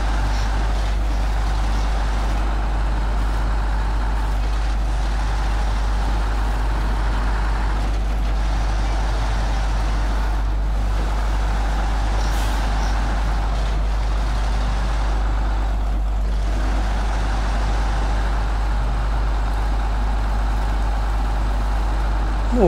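Ural-4320 truck engine in the SnowRunner game, a steady, continuous droning rumble that stays loud and unbroken as the truck drives on a quarry map in Taimyr, with no talk over it.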